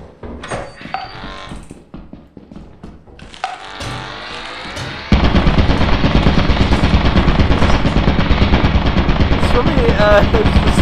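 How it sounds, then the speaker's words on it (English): A turret in the video game Lethal Company opens up with loud, rapid machine-gun fire that runs continuously for several seconds, after some scattered thuds and bangs. "You activate the turret, so he insta-died!"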